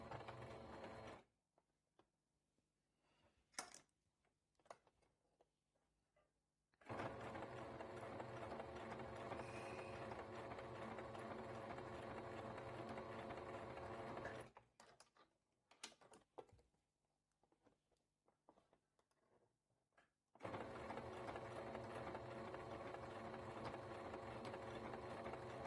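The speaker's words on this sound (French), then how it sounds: "Donc maintenant, on passe à la machine. Donc, comme tout à l'heure, je viens me positionner dans ma rainure et je viens coudre" A home sewing machine stitches bias binding along a fabric edge, running in two long steady bursts of mechanical whirring separated by quiet pauses with faint handling clicks.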